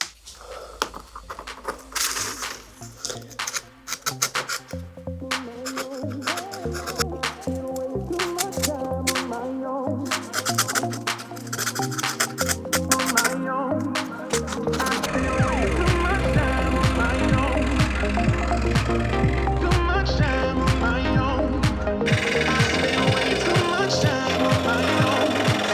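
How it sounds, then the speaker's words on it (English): Wooden fretwork cut from scrap wood is sanded by hand around its delicate edges with a nail file, giving close, steady rasping strokes that become denser and more continuous in the second half. "I'm going to sand around the edges. And some of these little bits are quite delicate. I'm going to use a nail file to see how that goes."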